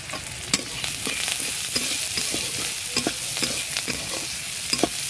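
Whole cumin and radhuni spice frying in hot oil, a steady close sizzle with scattered crackles and pops while a utensil stirs through the pan in intermittent scrapes, no one talking.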